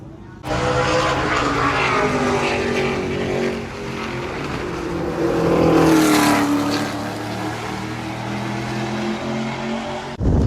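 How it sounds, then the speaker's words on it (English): Loud, sustained engine roar with shifting pitch from two race cars on track at North Wilkesboro, swelling and fading as they pass. "I hear the engines firing right now. The two cars hitting the track as we speak."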